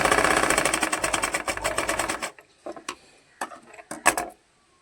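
A sewing machine stitches in a fast, even run of needle strokes for about two seconds and then stops. A few separate clicks and short bursts of handling follow, and no voice is heard.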